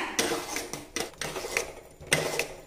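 Sweet pongal with jaggery and ghee is stirred in a pot, a ladle knocking and scraping against the metal in uneven repeated strokes, close and fairly loud, with no voices.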